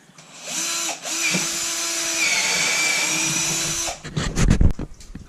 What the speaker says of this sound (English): So I'll just go ahead and drill these holes